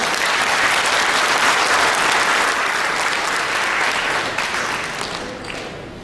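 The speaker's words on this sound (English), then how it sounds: "why don't we give the NCPAC a big round of applause" Audience applause for the NCPAC at a plenary session on public administration, a loud, full round of clapping that holds steady and then fades away near the end.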